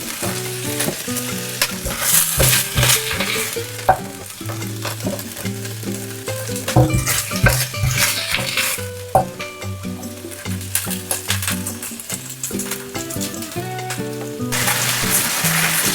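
Cabbage stir-fried in a wok sizzles loudly and constantly, with scraping stirs and tossing throughout and background music playing underneath.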